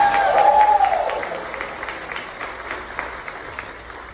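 Applause from a cruise ship audience at a musical murder mystery show, a broad wash of clapping that starts fairly loud, then thins and fades over a few seconds.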